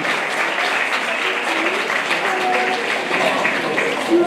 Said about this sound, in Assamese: আকৌ এটি হাত চাপৰিৰে মেডামক আদৰণি জনোৱা